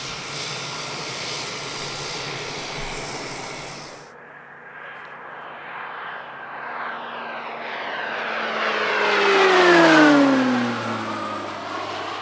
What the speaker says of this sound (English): We have a very high quality performance coming up next, the Slovenian Air Force PC-9 Hercules.